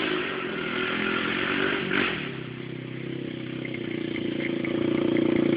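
Honda CG 125 motorcycles ride a trail in Aurora, Santa Catarina, their engines a fairly quiet, continuous buzzing drone that swells briefly and then builds again toward the end, with no talking.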